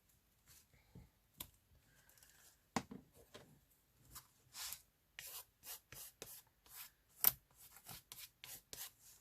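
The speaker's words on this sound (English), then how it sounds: "just getting my bone folder and flattening that down" A bone folder rubbing and flattening paper on a collage planner page, a series of short, quiet scraping strokes that quicken into a rhythmic run of brisk rubs.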